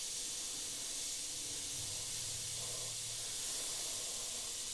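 An Iwata HP.C Plus airbrush spraying thinned paint at reduced pressure, a steady, even airy hiss that runs unbroken throughout, close and fairly quiet.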